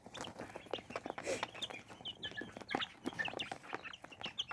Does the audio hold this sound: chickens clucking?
yes